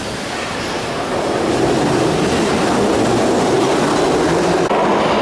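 A St. Petersburg metro train pulls out of the station with a loud, steady roar and rumble that fills the platform and swells slightly as it gathers speed, with no voices.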